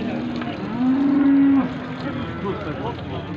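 A cow at the Taraz livestock market gives one loud, sustained low moo in the middle of the clip, over a steady murmur of market crowd noise.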